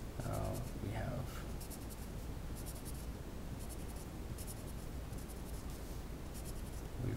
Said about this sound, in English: I'll just draw it like this.